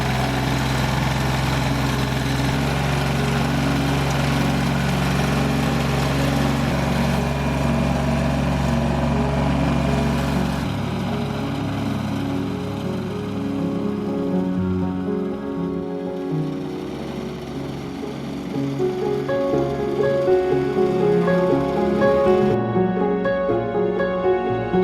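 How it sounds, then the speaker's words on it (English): A snowblower runs steadily while clearing snow from a driveway in the snowy Niigata countryside of rural Japan. The engine drones loud and close for the whole stretch, and its pitch and load shift partway through. "clear the driveway using the snowblower"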